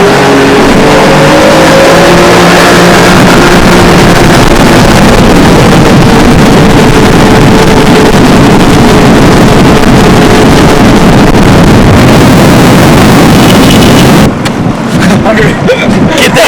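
A 2007 Sea-Doo Islandia boat with twin engines runs up to plane, a loud, rising engine drone with heavy wind rush that holds steady before easing off near the end.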